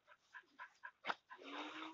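A working dog penning cattle whimpers and yips in short high bursts, four or five quick cries followed by a longer whining strain, close and fairly soft.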